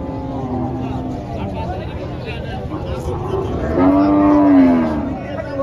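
A Friesian cow moos loudly at a busy cattle market, one long low call swelling near the end over steady crowd chatter and people talking nearby.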